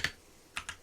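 ROG Falchion NX gaming keyboard keys pressed during play, three quiet, sharp clicks, one alone and then a quick pair, close up with near silence between them.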